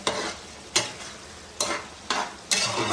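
Ridge gourd curry sizzles softly in a pan, broken by five sharp scraping strokes of a spoon stirring at roughly even intervals, close and with no voices.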